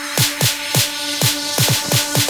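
An EDM build-up produced in FL Studio Mobile: punchy kick drums with bright hi-hat hits in an uneven driving pattern over a faint sustained tone, moderately loud with no talking.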